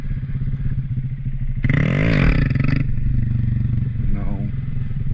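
A motorcycle engine revs up and drops off during wheelie practice, a close, rough throttle burst amid clatter and scraping, with someone talking over it throughout.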